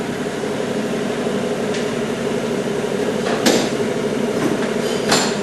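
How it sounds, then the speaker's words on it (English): An electric stand mixer runs on its lowest speed, giving a steady, loud mechanical whir that holds constant throughout, with a couple of brief knocks from the bowl and no voices. "So we've got our mixer on the very first speed."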